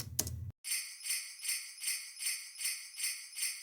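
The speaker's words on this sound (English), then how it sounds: "So this is a combination of programmed bells" Programmed bells in a Christmas song ring out in a steady, evenly spaced pattern of bright metallic strikes, about two per second, each decaying briefly, after a short opening burst.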